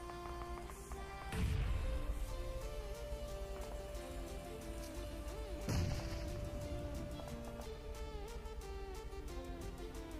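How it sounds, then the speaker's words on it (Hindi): Two grenade blasts go off in a BGMI battle royale match, each a deep, loud boom near 1.5 and 5.7 seconds, set against steady game ambience and background music. "बस तुम ग्रेनेड्स देखो"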